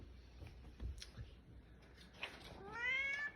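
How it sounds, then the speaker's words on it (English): Faint rustling and soft taps, then a cat lets out a clear, drawn-out meow close by near the end. "a week of magnificent meowing"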